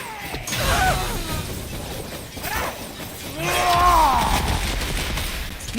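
Gunfire crackles in God of War Ragnarök as bursts of shots and metallic clatter come close and loud in two waves, mixed with shouting voices amid the battle.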